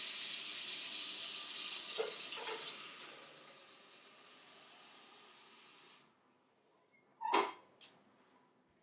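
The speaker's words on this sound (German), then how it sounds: "Nimm den Wassertank heraus und füll ihn mit kaltem Wasser." Cold water runs into a removable coffee machine water tank, a steady broadband pour for about six seconds that then stops, followed by a couple of short plastic clunks as the tank is handled.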